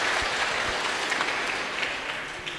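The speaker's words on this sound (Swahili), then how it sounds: "Tuwapigie makofi." A church congregation at a Kikuyu service claps together in a dense, sustained round of applause that holds evenly throughout, with no voices.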